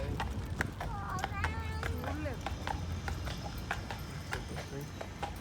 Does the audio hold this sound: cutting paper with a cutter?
no